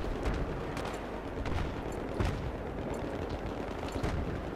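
A magazine emptied in Battlefield 3, rapid sustained gunfire with repeated sharp shots and fuller bursts at regular intervals, moderately loud and steady over a low rumble of battle.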